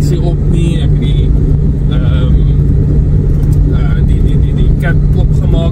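A car engine with a suspected blown head gasket runs at a steady loud idle, a constant low rumble and hum, while someone talks over it.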